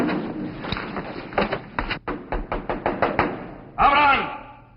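Someone in a drama scene pounds hard on a door, a fast irregular run of loud close knocks and bangs, followed by a brief burst of shouting.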